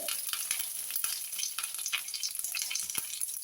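Curry leaves sizzle in hot oil, a close, steady crackling hiss with scattered sharp pops, alone without voices.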